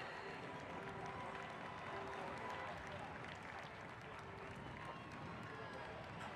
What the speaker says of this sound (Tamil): let the grounds shake with the magnitude of your applauses